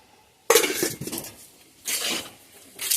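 Fried chicken lands in a pan of egg chowmein with metal clatter and scraping, in a few separate bursts of utensil-on-pan noise, close and fairly loud, with no talk.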